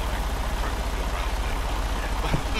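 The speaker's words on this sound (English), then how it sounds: "the engine's still on" A Freightliner truck engine idles in American Truck Simulator: a steady, loud, low diesel rumble that continues unbroken throughout, with a faint knock near the end.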